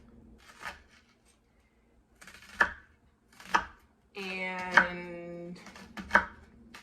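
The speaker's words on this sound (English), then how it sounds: "So I'm just going to cut with the lines of the onion." Knife cutting an onion along its lines on a board, a few sparse, distinct chops spaced about a second apart, near and fairly quiet, with a short spoken word in the middle.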